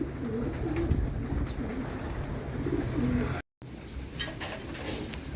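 Young pigeons coo in low, repeated warbling calls in an open loft, close by, over a steady background hum; the sound briefly cuts out before fainter rustling and flutters.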